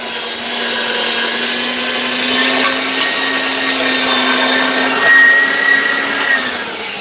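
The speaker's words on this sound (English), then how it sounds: "Number 8 kitchen grinder like this is a good choice for anyone who's just getting into making sausage" An electric No. 8 kitchen meat grinder runs steadily on its own, grinding pork butts for bratwurst, a continuous motor whine with a bright high hum that holds for the whole stretch with no talk.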